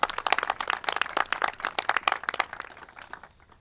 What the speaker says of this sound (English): Becky, give her a big round of applause.